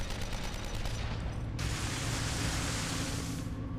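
A turret firing continuously in the survival horror game The Evil Within, a steady rattling hiss of rapid shots with no breaks, fairly faint and heard on its own.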